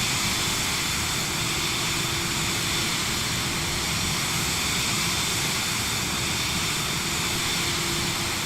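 Steady, loud jet engine roar from a Vision Jet at thrust in Microsoft Flight Simulator 2024, a constant broadband rush with a faint whine that holds throughout.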